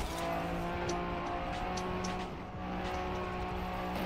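A rally car in the Trackmania racing game drives continuously, its steady engine drone holding under scattered tire and gravel noise, with no voices.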